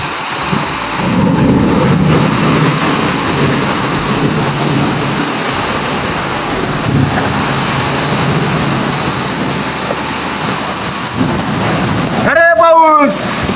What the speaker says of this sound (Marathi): खतरनाक पाऊस सुरू झाला. एकदम वादळ,